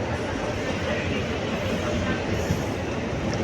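A train pulls in at Kazhakoottam, a small stop in Kerala, with a dense, loud rumble of wheels and carriages rolling continuously close by, and a voice faintly underneath.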